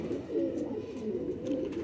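A Kasuri-Sialkoti cross pigeon coos in a soft, continuous rolling murmur, close by and fairly quiet, with gentle rising and falling pulses and no voices.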